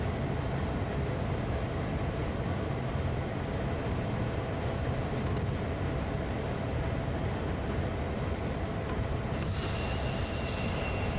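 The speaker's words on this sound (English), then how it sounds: "Ooh, this train is not slowing down." Heavy freight train rolling downgrade on a rail line in a train simulator, a dense continuous rumble of wheels and cars, steady and loud throughout, with a brief higher hiss near the end.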